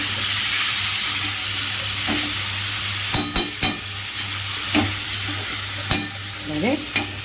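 Fish with potato, papaya and pointed gourd sizzles in a pan under a steady frying hiss, close by. Utensils knock and stir sharply at intervals.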